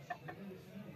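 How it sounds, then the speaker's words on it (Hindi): A sick rooster in a village gives two quick, faint clucks close together, followed by a low, muffled background. "ये सोनू बेचारा बीमार हुआ है, इस मुर्गे का नाम है सोनू"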